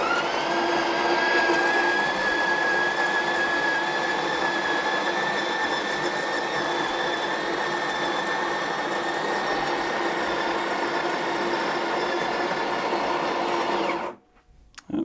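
A steady, loud whirring drone from the built-in grinder of a URintells espresso machine grinding coffee beans, running continuously for about fourteen seconds before cutting off abruptly.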